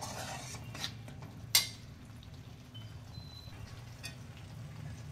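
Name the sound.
prawn biryani masala being sautéed in oil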